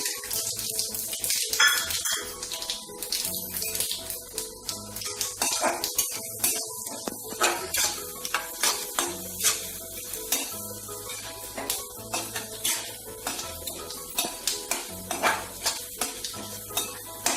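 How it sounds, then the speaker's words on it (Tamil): Mustard seeds, chana dal, urad dal and cashews fry in oil while making rava idli, a continuous sizzle broken by frequent clinks and scrapes of a spoon against the pan. "இப்போ ஆயில் லிட்டர்னு கடுகு, கடலைப்பருப்பு, உளுத்தம்பருப்பு ஆட் பண்ணிட்டு கேஷ்யூ ஆட் பண்ணிடலாம்"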